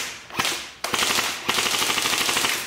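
Airsoft gun firing outdoors: a single sharp shot, a second shot, then a fast, continuous string of rapid-fire shots. Close and loud, with no talking.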